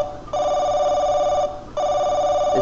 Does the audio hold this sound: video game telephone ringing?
yes